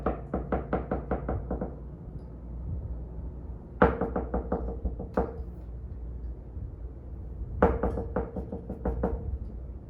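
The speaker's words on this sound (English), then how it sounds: "I knocked maybe like 3 times." Knuckles rap on a window in three rapid bursts of about six to eight knocks each, close and crisp with short pauses between the bursts.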